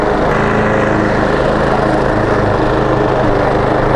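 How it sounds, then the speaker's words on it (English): Steady, loud drone of a lawn mower running close by as a yard is mowed, a continuous engine roar with no pauses. "I'm mowing the lawns with my helmet on."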